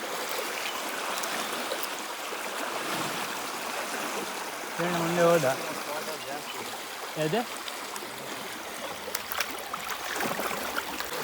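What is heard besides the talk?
stream water flowing strongly over rocks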